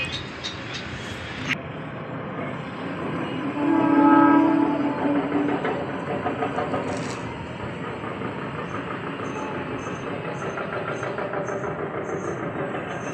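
A train passes near a hostel and garden in the evening, with a steady rolling rumble and clatter across the whole stretch, swelling briefly with a low tonal blare near the start, no talk over it.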